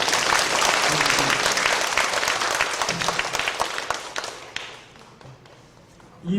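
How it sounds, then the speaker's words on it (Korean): A church congregation applauds at a pastor's installation thanksgiving service at Yeongam Church: dense, sustained clapping fills the room, then thins out and fades toward the end. "박수 치고 아멘."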